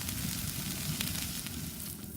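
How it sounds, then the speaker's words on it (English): Onions and green peppers sizzle softly in a hot pan, a faint, steady crackle with no voices. "We'll start by sizzling up those glorious veggies."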